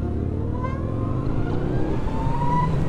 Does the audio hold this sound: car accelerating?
yes